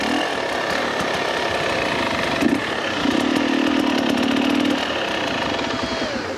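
A dirt bike engine idles and revs during pivot turn practice, a buzzy close drone with a short throttle blip and a longer sustained rise in pitch before settling back.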